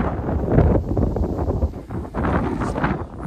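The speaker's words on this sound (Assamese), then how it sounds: "ধুনীয়া বতাহ মাৰি আছে" Wind gusts across a scenic northeast hill viewpoint near a dried-up waterfall, a loud, rumbling buffet of wind on the microphone, with no talk.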